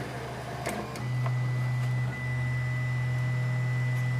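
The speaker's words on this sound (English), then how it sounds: "And the printer goes for Z homing." A Wanhao i3 Plus Mark II 3D printer homes its Z axis with a loud, steady stepper-motor hum that pauses briefly and resumes, over faint background noise.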